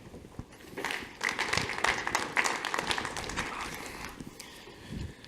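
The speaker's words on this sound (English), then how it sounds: "Give them a round of applause." Scattered audience applause for panelists walking up at a 2019 blockchain developer conference, moderate and steady with a few louder bursts, then tapering off.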